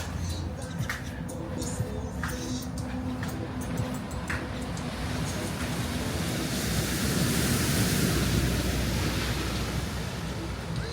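Ocean surf waves rolling onto the volcanic shoreline at Papeete, Tahiti, a continuous broad wash of breaking water with wind buffeting the microphone, swelling louder in the second half.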